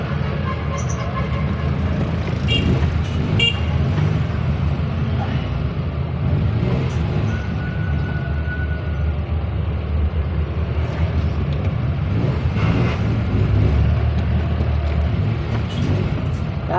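Heavy Friday road traffic in a congested street, a dense continuous rumble of engines and passing vehicles with a few brief honking tones scattered through, close and loud throughout.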